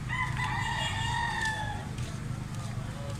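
A big white-legged rooster crowing once, close and clear, over a low rumbling background.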